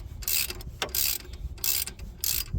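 A ratchet loosens a bolt on the right-side drive shaft of a 2014 Nissan Juke, giving four bursts of rapid clicking in an even rhythm, close and fairly quiet, with short pauses between strokes.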